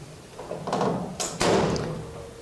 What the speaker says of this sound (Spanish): Abrimos la puerta, se apaga lo que es nuestro display y entra en un corto total